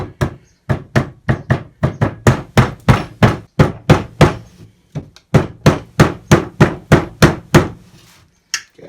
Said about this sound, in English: I'm going to use a rubber hammer just on this metalwork and try and get it in without doing any damage.